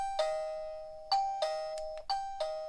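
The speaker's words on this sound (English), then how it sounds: "That's a pretty loud doorbell." A MUBVIEW wireless doorbell chime rings loudly several times in quick succession, each bright ding-dong tone ringing out and decaying before the next press, with no talking.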